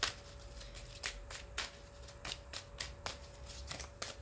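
A deck of tarot cards shuffled close up, a quick series of crisp riffling snaps at an uneven rhythm, quiet and without speech.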